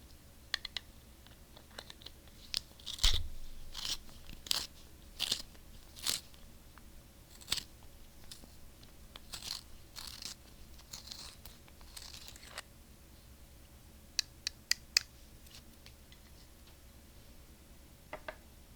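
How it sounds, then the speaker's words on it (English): Pencil being sharpened in a quiet room, with scattered crisp scraping and crunching strokes and clicks spread across the stretch, close and fairly soft. "let me go ahead and sharpen the pencil real quick"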